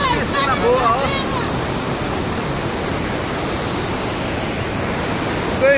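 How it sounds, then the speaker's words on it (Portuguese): A waterfall at Cachoeira da Caba Vida in Brazil pours as a steady, loud broadband roar that fills the whole clip, with voices calling out briefly near the start and again at the end. "Cachoeira da Caba Vida."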